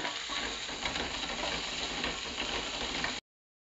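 String beans stir-fried with garlic and onion in oil make a close, steady sizzle with faint stirring scrapes, running for about three seconds before stopping abruptly.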